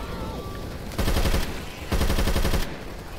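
Rapid automatic gunfire in the video game Left 4 Dead 2, fired in two loud sustained bursts about a second long, each separated by a short pause, over a busy background of game ambience.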